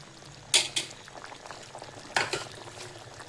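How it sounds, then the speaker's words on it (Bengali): A taro curry bubbling hard in a cooking pot, soft simmering broken by two sharp bursts of popping bubbles about a second and a half apart. "টকবক করে ফুটছে তরকারিটা"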